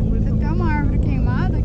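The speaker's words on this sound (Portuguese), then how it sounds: "Vamos ver se a moto vai apagar agora" A turbocharged Yamaha XJ6 motorcycle that had been stalling, its engine idling steadily with a close, even drone while someone talks over it.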